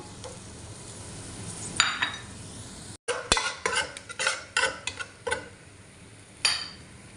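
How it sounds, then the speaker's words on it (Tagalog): Onion and garlic sauté in a pan for ginataang kalabasa at sitaw, a low sizzle under a run of metal scrapes and clinks from a spatula stirring, with a brief cutoff partway through. "Gisa natin. Ligay na nga po natin yung sibuyas. sunod na po natin yung bawang."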